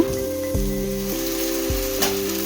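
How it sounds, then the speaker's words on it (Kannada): Ground masala sizzles steadily in a hot pan as it goes into fried field beans (avarekalu) and onion for an egg sambar, a continuous close frying hiss with a few soft stirring knocks. "ಇದಕ್ಕೆ ನಾವೀಗ ರುಬ್ಬಿಟ್ಕೊಂಡಿರೋಂಥ ಮಸಾಲೆನ ಸೇರಿಸೋಣ"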